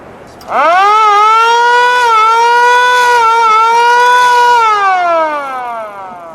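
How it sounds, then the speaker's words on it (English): A loud wailing fire truck siren rises sharply, holds a long steady tone, then winds down, close and dominant with nothing else heard. "You want to hear siren from the fire truck?"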